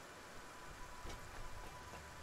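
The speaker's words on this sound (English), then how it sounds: "It sounds like it's raining." Steady rain from the Satisfactory factory-building game, a soft, even hiss of falling drops that stays faint and unbroken throughout, with no talking over it.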